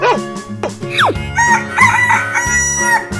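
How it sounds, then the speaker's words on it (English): A rooster crows, part of a lineup of farm animal sounds in a children's animated cartoon, with a bright, rising call and clucking fowl notes layered over a steady musical background. "Chicken."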